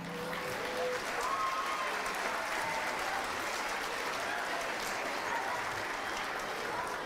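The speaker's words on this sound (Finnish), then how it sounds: "Ja aplodit vielä koko ryhmälle." Audience applause at a youth football club's season-ending celebration, a steady wash of clapping from a hall crowd lasting the whole stretch at even strength, with faint voices mixed beneath.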